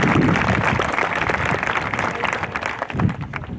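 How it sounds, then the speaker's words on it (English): Applause from a graduation commencement audience honoring educators, a dense sustained clatter of many hands clapping throughout, fairly close and full, with a few louder claps standing out. "Let's give our educators a round of applause."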